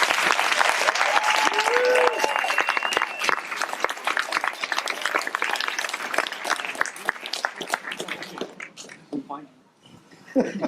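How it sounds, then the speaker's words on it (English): An awards event crowd applauds judges and volunteers, loud dense clapping with a few shouts and cheers, tapering off as voices begin to emerge. "Let's give them a round of applause."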